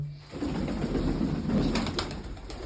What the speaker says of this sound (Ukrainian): Випустив своїх голубів, трошки політали.